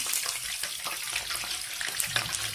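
Potatoes fry in oil in a pan, a dense steady sizzle with bubbling crackle filling the moment, close and continuous with faint clinks underneath.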